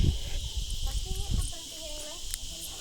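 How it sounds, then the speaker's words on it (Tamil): Insects chirp steadily in the open air during the day, forming a dense, bright shimmer with a few brief calls on top, while low rustling sounds fade early on. "பூச்சி சவுண்டு பாருங்க."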